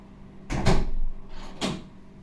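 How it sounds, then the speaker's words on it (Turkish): A door is shut and locked indoors, two close knocking thumps followed by a lighter clunk of the lock. "Şöyle kapıyı da kilitleyelim."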